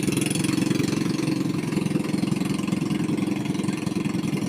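A passenger boat engine at the Catubig river landing rumbles steadily at an idle-like pitch as the boat comes in, a continuous low drone holding level throughout with no talk over it.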